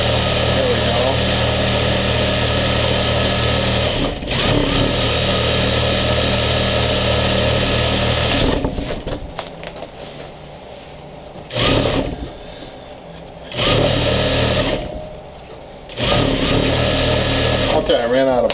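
An upholstery sewing machine stitches a sofa cushion, running in a loud, steady whir that stops several times and then starts again, with talk heard nearby.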